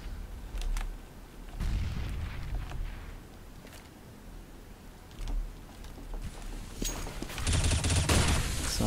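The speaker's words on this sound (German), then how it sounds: "Kims hat sein ganzes Magazin verballert" Gunfire in Counter-Strike on de_mirage during a competitive esports match, including an M4 rifle firing its whole magazine, scattered shots and short bursts that build into dense rapid fire near the end.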